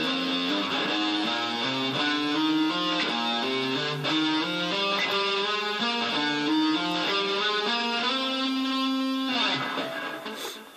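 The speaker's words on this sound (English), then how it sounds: "legato is going to sound like this." A slow legato electric guitar line from a song's solo, with smoothly connected notes stepping up and down in an even rhythm and a final sustained note, played alone and at a moderate level.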